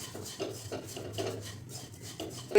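Oats dry-roasting in a pan for banana-oat modak, stirred with rhythmic scraping and rasping strokes close by, repeating every half second or so with no talk.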